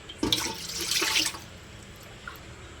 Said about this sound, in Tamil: தேவையான அளவு நம்ம வந்து தண்ணி வச்சுக்கலாம்